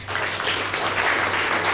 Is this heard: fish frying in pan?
no